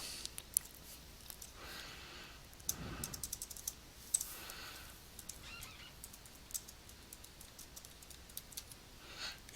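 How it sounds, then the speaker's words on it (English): Numbers tapped out on a computer keyboard come as scattered light clicks in brief clusters, soft and close against quiet room tone, with nobody speaking. "So let's just type that in."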